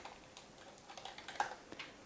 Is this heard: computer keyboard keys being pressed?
yes